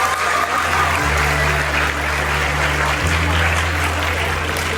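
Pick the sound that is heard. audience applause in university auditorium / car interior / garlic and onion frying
audience applause in university auditorium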